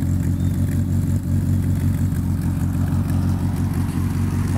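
A 1995 Volkswagen Parati Surf with a modified engine holds a steady, loud, deep rumbling rev, close to the car, with no talking over it.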